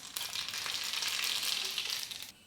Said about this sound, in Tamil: எண்ணெய் காஞ்சிடுச்சு. கடுகு சேர்த்துக்கிறேன்.